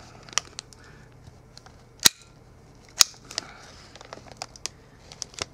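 A Walther PPK/s BB gun fires with two sharp snapping cracks about a second apart, amid scattered light clicks and handling ticks in a quiet room.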